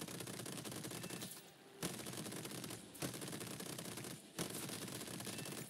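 Aircraft machine guns rattle in long, sustained bursts during a strafing run on a biplane in War Thunder, with about four loud, dense volleys separated by brief pauses and no talking.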